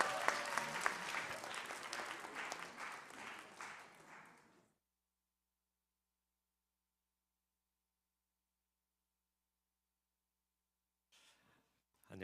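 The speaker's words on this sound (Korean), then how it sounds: "박수로 해주실까요?" A church congregation at a young adults' Sunday service claps for a council candidate's speech, a few seconds of moderately close applause with a murmuring voice that fades into silence, followed by a faint stir near the end.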